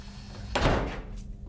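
In the video game Poppy Playtime Chapter 2, a locked office door opens with a single close, heavy thunk and a brief swooshing swing, over a low ambient hum.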